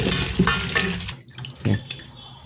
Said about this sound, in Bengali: আলুগুলো ধুয়ে নিচ্ছি আমি।